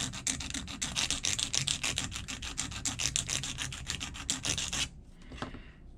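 A nail file rasps rapidly back and forth on a nail during nail art practice, a close, continuous scratchy stroking for about five seconds that then stops abruptly.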